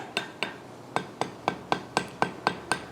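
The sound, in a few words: hammering hot iron at welding heat to forge a pintle hinge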